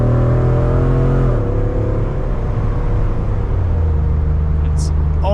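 A Hemi-swapped Jeep accelerates at partial throttle, its deep engine droning close and loud. The pitch drops midway as it shifts, and the steady rumble continues after.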